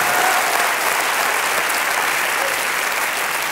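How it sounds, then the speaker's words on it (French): Studio audience at a French television game show applauds contestant Mireille, a dense, steady wash of many hands clapping that holds loud and even throughout, with no voices over it. "on l'applaudit très fort"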